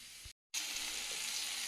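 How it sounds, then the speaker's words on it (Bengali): Steady loud sizzling of pumpkin slices frying in a pan, broken by a brief silent gap, with no voices. "আমি কুমড়ো কেটে ভাজা চাপিয়ে দিয়েছি"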